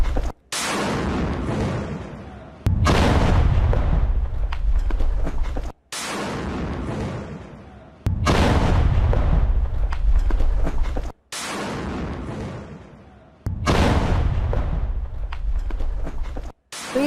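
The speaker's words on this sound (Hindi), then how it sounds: "गाजा में किस तरीके से बम बरसाए गए हैं ये तस्वीरें आप देखिए।" Bombs exploding in Gaza air strikes: a series of roughly six loud, booming blasts, each a sudden burst that rumbles and fades over a few seconds before the next one starts.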